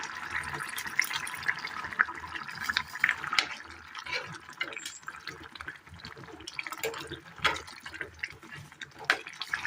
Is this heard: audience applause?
no